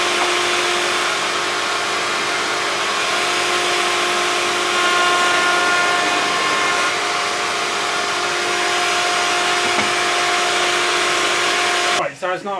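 A Makita 1/2 inch router making a test cut in wood on a bench-top router table, a loud steady whine holding for about twelve seconds before cutting off abruptly at the end.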